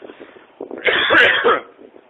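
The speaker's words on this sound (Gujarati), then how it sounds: "ખાંસી ખાવાનું બંધ કરી દે" One person coughs harshly up close, a single rough, throat-clearing burst in an otherwise quiet moment.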